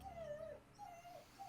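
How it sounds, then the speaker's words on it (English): A dog gives soft, high-pitched whimpers in two short bursts, a thin wavering whine rising and falling, fairly quiet and close, with a brief gap between the cries and a faint low background hum. "Oh, that's the dog."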